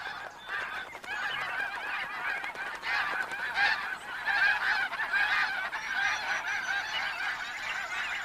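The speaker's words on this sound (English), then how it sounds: "The snow geese are already here." A large flock of snow geese on a spring stopover in a river delta honks continuously, a dense chorus of overlapping calls that is moderately loud and steady, with no talk.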